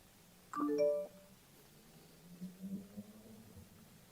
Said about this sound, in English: I hate the notification.